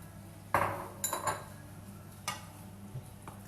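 A utensil scraping and knocking around a bowl of vegetable mixture for a vegetable loaf, a few sharp clinks and scrapes spaced apart over a quiet background.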